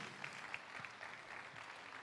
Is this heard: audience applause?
yes